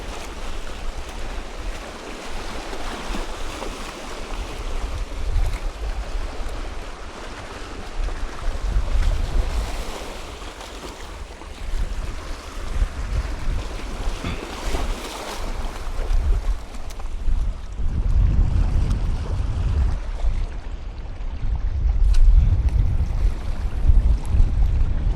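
Strong wind buffeting a microphone on a fishing jetty, a steady loud roar with gusty surges and low rumbling, surf washing in beneath it, no voices.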